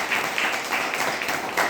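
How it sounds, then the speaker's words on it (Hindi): An audience clapping at a seminar-style program in Gorakhpur, a continuous dense round of applause with slightly pulsing intensity, no voice over it. "और जिन लोगों ने नहीं देखा है उनके लिए भी आप ताली करें"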